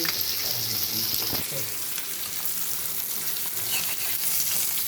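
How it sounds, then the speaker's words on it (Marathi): A steady, loud sizzle and crackle of fish frying in a pan continues close up throughout, with a few soft stirring knocks. "कसे मासे परताय लागले एकदम छान पैकी"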